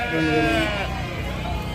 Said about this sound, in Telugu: బండి లోపల పెద్ద గొర్రెలు ఉన్నాయి